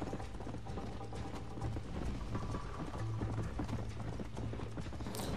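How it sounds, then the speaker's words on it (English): Horse hooves galloping in Red Dead Redemption, a fast, steady clip-clop rhythm running throughout at moderate volume with rumbling ambient texture beneath. "Vai, cavalinho."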